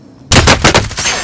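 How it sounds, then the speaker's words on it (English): Rapid bursts of automatic gunfire in the Call of Duty: Modern Warfare video game, loud and close, a run of five or six sharp reports after a brief quiet start. "Taking fire over here."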